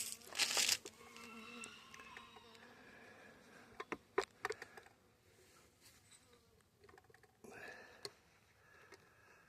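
Honey bees buzzing around their hive on a December day, faint close buzzing with scattered ticks and rustles, and a louder burst at the start.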